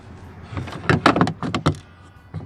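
The broken door handle on a Duramax pickup is worked by hand, giving a close, quick cluster of plastic clicks, rattles and latch knocks over about a second, with quiet gaps around it.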